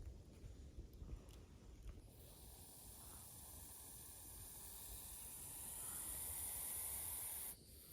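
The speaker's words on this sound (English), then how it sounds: "You can hear him puffing up. You can hear that breathing there." Faint, breathy hissing from a snake puffing up, rising into a steadier, louder hiss before cutting off near the end, in an otherwise quiet setting.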